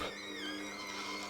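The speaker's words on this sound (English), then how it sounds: "those squeaky noises you can hear is just the pulp" Squeaky, wavering whine of orange pulp pressing against the end of a Ninja cold press juicer, steady and close over a low motor drone.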